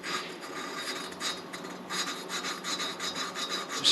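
Close, repetitive gritty rubbing of a Yamaha Moto 4 engine valve being spun back and forth against its seat with grinding compound, a soft rasping swish in quick uneven strokes with no talking.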